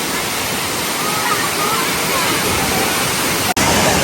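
A forest waterfall in Thiruvananthapuram, Kerala roars as a loud, steady wash of falling water that fills the whole clip without pause.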